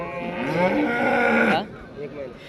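A large cow at a cattle market moos once, loud and close, a long low bellow lasting about a second and a half before cutting off into quiet farmyard background.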